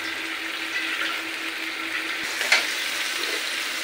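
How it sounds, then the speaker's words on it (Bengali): Spice paste for goat brain curry sizzles and fries steadily in a pan, a close, continuous crackle with a brief clatter partway through. "মজক রান্না হবে, সেই মশলা কষাচ্ছে।"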